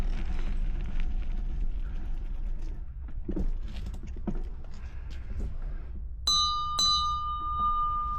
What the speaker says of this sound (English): Time to ring a bell.